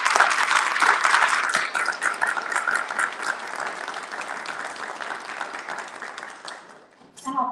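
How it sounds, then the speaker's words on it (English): Audience at a Chesapeake candidate forum claps in a sustained round of applause, loud and dense at first, then gradually thinning and fading out near the end, with a brief burst of noise right after. "can we give them a round of applause?"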